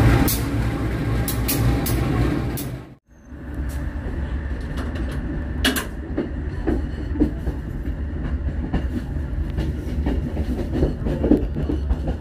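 Rumbling passenger train rolling along rails, heard from inside the carriage, with steady low rumble and repeated clicks of wheels over rail joints; a brief dip near the start before the running noise resumes.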